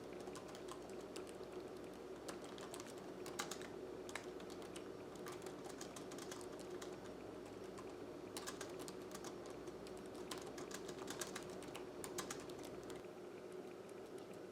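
Steady, rapid typing on a computer keyboard, dense clusters of quiet key clicks in bursts with brief pauses, close but faint, no voices.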